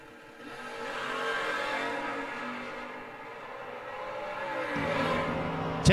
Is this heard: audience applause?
no